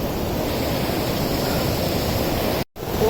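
Broad, steady roar of Lulugayan Falls in Calbiga, Western Samar, a wide waterfall heard from its top, rushing continuously and loudly with no voices, cut by a brief dropout near the end.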